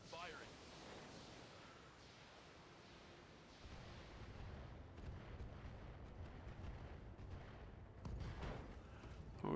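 Mech weapons firing in the BattleTech video game, with a rolling barrage of heavy rumbling blasts building after a quieter start and a few sharp cracks near the end, all fairly loud and without talk.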